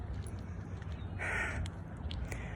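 Crows caw outdoors, one harsh call standing out clearly at mid-distance amid a few fainter scattered caws over quiet ambient background.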